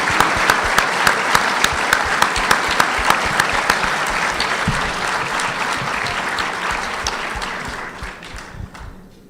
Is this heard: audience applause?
yes